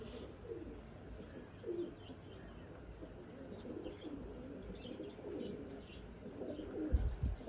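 Soft, low pigeon coos repeat in overlapping phrases, with a few faint chirps from other birds and a light flutter near the end.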